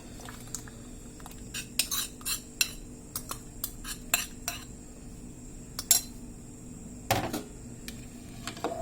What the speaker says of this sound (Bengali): তালটা দিয়ে দিলাম, ভালোভাবে নেড়ে চেড়ে দিব।